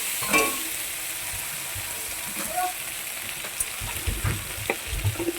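Ginger, cumin and dried chilli frying in a pan make a soft, steady sizzle with occasional small pops and stirring scrapes, fairly quiet and close, with a faint voice nearby.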